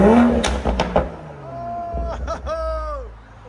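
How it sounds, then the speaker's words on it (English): A BMW M340 with a 3.0 litre turbo engine and a straight-pipe exhaust crackles with a few sharp pops, then revs up and falls back. The engine rumbles nearby and people talk under it. "Now you can hear the pops."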